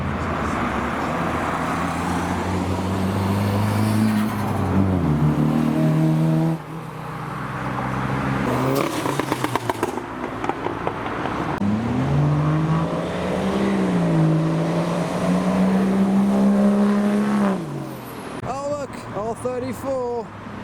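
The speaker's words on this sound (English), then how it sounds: "they were the cars arriving at Reading Japanese Meet" Tuner cars, a Nissan S13 and a Lotus, roll in to a Japanese car meet in Reading, engines droning and revving as they pass close by, with people talking over the engine noise.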